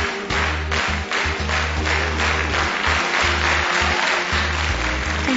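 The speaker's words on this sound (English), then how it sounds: "put your hands together." An audience claps along in steady unison, loud rhythmic clapping layered over a pulsing low music beat throughout.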